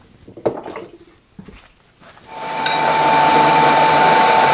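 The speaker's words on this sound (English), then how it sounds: "I'm going to mill that out just a little bit more" A milling machine cutting steel vise jaws, a few clunks and handling knocks at first, then the cutter spins up into a loud steady whine that holds to the end.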